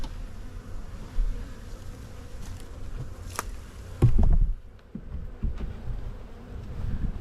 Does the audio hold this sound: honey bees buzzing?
yes